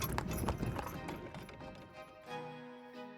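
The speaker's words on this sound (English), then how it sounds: "You hear the sound of wheels and hooves against the cobblestone, or the cobbles in the yard." Carriage wheels and horse hooves clatter on cobblestones in a courtyard, a busy clip-clop of hoofbeats over rumbling wheels that thins out toward the end, with a faint steady tone underneath.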